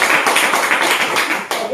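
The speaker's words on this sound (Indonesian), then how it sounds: "Tepuk tangan dulu buat itu." Students in a fifth-grade classroom applaud with a brief, dense burst of clapping that stays fairly loud and even for a couple of seconds.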